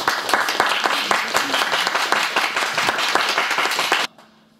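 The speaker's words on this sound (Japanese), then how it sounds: "拍手お願いします。" Live concert audience applauding steadily with dense, even clapping at close range, then cutting off abruptly near the end.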